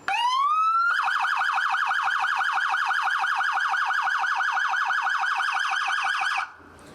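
An emergency vehicle siren in yelp mode whoops rapidly up and down at a fast, even pace, loud and close, then cuts off abruptly near the end.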